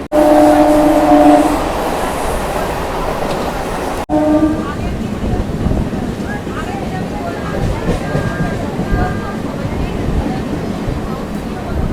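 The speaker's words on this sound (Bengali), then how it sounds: "আমাদের ট্রেন এখন এসে পৌঁছলো বেলানগর" A train on the Barddhaman–Howrah chord line rolls into Belanagar station, with a steady loud rumble of wheels and carriage noise throughout, a brief tonal horn-like hum early on, and faint voices around.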